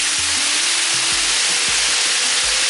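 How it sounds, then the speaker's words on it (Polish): Steady, dense sizzling of fruit, including apples, frying in a hot pan, a continuous hiss with faint low thumps of stirring throughout. "teraz będziemy to dalej smażyć tak, aby owoce nam lekko zmiękły"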